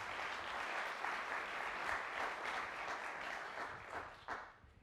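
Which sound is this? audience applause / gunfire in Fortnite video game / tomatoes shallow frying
audience applause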